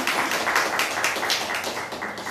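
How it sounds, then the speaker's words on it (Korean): A church congregation in Ulsan gives steady, dense applause filling the room, welcoming a member back to worship after finishing military service. "우리 박수로 환영하도록 하겠습니다"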